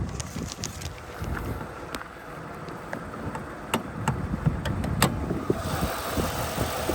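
A 2000 Lincoln Continental's 4.6-litre 32-valve dual overhead cam V8 idles smoothly, a low steady rumble with scattered light clicks and taps nearby.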